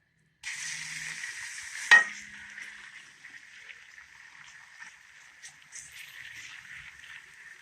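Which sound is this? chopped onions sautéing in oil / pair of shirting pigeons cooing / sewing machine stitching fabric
chopped onions sautéing in oil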